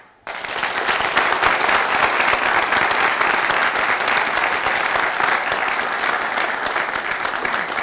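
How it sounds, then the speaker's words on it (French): A warm studio audience bursts into sustained, vigorous applause that starts abruptly and stays loud and even throughout, a dense wash of many hands clapping together. "ce public chaleureux que j'invite à s'exprimer avec des applaudissements très nourris"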